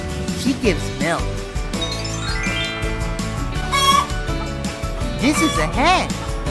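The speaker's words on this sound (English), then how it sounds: "This is a hen. She lays eggs." A cartoon hen on a farm clucks in short bursts over bouncy children's music that plays throughout.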